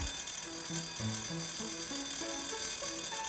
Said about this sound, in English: The gauge's needle jumps into the danger zone and the twin bell alarm sounds.